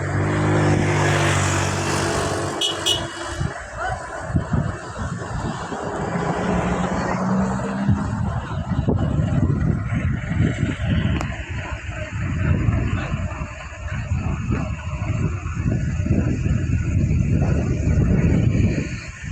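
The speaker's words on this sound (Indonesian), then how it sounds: "Mobil yang melewat." A car passes along a damaged mountain road prone to landslides, giving a broad rumbling engine and tyre roar that swells and lingers, heavily buffeted by wind noise on the microphone.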